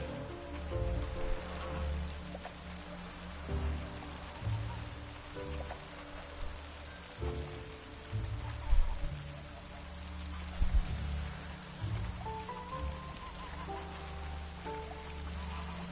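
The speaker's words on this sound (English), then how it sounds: "Looked like it would rain, and here it is." Steady rain falls in the video game The Witcher 3, a constant soft hiss of drops over low, murmuring game ambience, with no talk.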